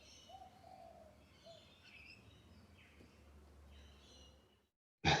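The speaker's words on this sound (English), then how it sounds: "So these are not cockatoos, they're little corellas, very similar to cockatoos" Little corellas, a small white cockatoo-like parrot, call in a riverside garden along the Cooks River, their harsh and warbling cries scattered over about five seconds, moderately distant over low background hum, ending in a sudden loud burst.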